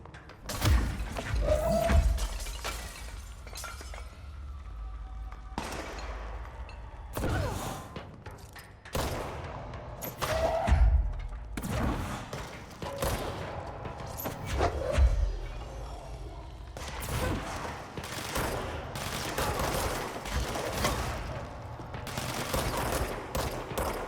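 Heavy gun in the game Control firing repeated deep thunking shots at irregular intervals, punchy and close, with crashing debris and reverberant impacts between them.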